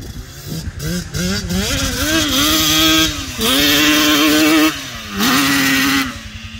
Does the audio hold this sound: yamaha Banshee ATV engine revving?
yes